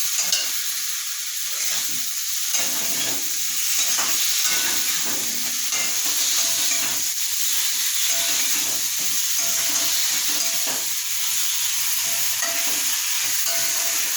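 Pre-fried potatoes are stirred in a hot pan of oil for Bengali vegetarian alur dom, giving a steady close sizzle and hiss broken by repeated scraping and clinking strokes of the spoon, with no talking.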